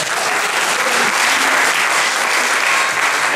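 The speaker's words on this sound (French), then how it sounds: "On peut les applaudir." Theatre-forum audience applauding after a scene, full continuous clapping from a crowd, loud and even with no talk over it.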